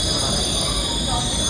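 A metro train in an underground station in Lujiazui, Shanghai gives a loud, steady rumble with high whining wheel tones running throughout.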